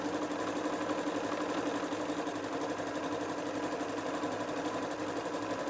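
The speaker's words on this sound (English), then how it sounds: "just resting this onto the machine, using the zigzag stitch which is already on" A sewing machine runs a zigzag stitch along a folded fabric edge, producing a steady, close mechanical whir with a fast regular rattle throughout.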